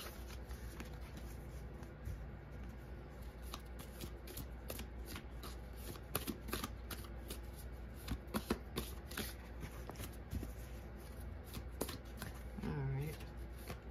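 Affirmation cards for a tarot reading are shuffled steadily and close up, a continuous papery riffle and slide with small taps, running alone throughout.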